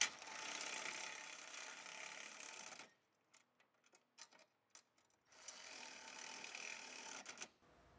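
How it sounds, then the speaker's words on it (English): A 7/16 socket and wrench tighten bolts on a truck core support system install, giving quick close ratcheting clicks in two bursts with a quieter gap of scattered clicks and taps in between. "you're gonna get a 7/16 socket and then a wrench to put on the backside, and you're just gonna start tightening up all these bolts"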